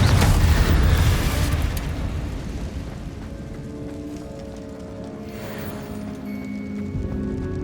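A Confringo spell blasts in Hogwarts Legacy, a loud booming explosion that bursts at once and then trails into a long rumbling decay with faint clattering debris, no voices over it.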